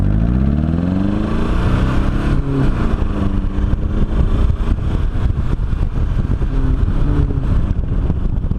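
A Volkswagen Passat pulls away as the clutch is let out, a loud, steady engine roar with rising and falling rev tones running throughout, close up and without talk.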